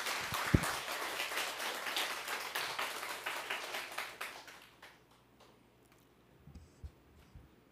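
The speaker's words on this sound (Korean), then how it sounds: "고금 스님을 큰 박수로 맞이해 주시기 바라겠습니다" An audience at a Buddhist dharma talk in a temple claps steadily for a few seconds to welcome a monk, then the applause fades to near silence.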